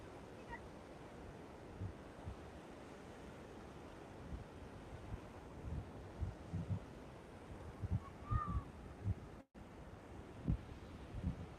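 Ocean waves wash steadily onto Sanibel beach in the evening, a continuous surf roar with soft swells and light wind rumble, fairly close and even throughout.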